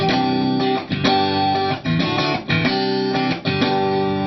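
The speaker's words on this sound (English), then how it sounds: "This is the sound of my stock Strat into a deluxe reverb." Clean stock Stratocaster electric guitar straight into a Deluxe Reverb tube amp, strumming a chord progression, bright and chiming with a warm amp tone, played steadily without pauses.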